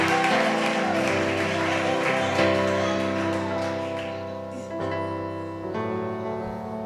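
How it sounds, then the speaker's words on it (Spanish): A church congregation claps during a worship service, a dense patter of applause mixed with sustained music and fading slightly toward the end. "denle un aplauso fuerte al Señor"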